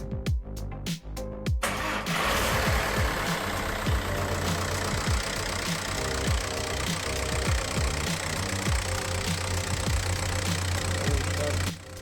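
A Volkswagen Golf engine just back from a clutch repair cranks in a few sharp bursts, then catches and settles into a steady, loud, close idle with a slight knocking rhythm that runs on unbroken to the end.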